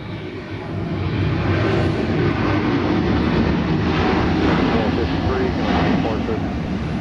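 Delta jet taking off from Atlanta runway 26 left, a broad continuous engine roar holding steady throughout, with radio voices talking over it.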